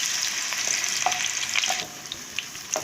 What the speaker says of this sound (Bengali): রাঙা আলুগুলো ভেজে তুলবো